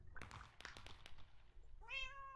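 A cat meows in the Minecraft video game: a few short, fairly faint chirpy mews, then one clear, drawn-out meow at the end, with no talking.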